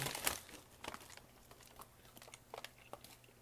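Paper rustles and crinkles close by in scattered bursts, with a sharp crumple at the start and softer handling noises after.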